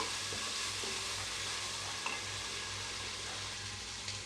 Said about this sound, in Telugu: అల్లం వెల్లుల్లి పేస్ట్ పచ్చి వాసన పోయే వరకు ఫ్రై చేసుకున్నాను